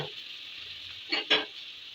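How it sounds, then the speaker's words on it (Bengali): Chopped garlic goes into hot oil in a pan of frying fish, making a soft, steady sizzle broken by two short, sharp bursts of spattering. "এটা আর একটু ভেজে নিব সব করে এখন আমি কিছু রসুন কুচি দিয়ে দিচ্ছি"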